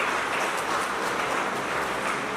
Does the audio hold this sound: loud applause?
yes